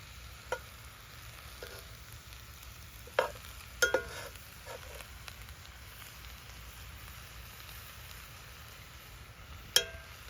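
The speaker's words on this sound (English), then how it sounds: "Stir that around, let it cook down for a few minutes." Mushrooms with sesame oil cook down in a pan over an outdoor fire, giving a soft, steady sizzle with a few sharp clicks of stirring scattered through, quiet and without speech.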